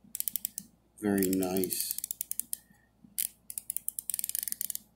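A Matco 88-tooth ratchet clicks in quick, fine bursts up close, with a short creaky sweep and pauses between runs of rapid ticking, and someone briefly speaks over it.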